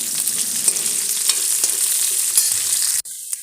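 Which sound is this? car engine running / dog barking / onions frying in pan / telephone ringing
onions frying in pan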